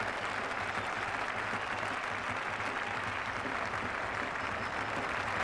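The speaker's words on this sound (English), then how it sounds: "that's brought the biggest round of applause of the morning" Cricket crowd at Old Trafford applauding a fine offside stroke by a local batsman during an England versus West Indies Test in 1984, a steady, broad wash of clapping that holds evenly throughout at a distance.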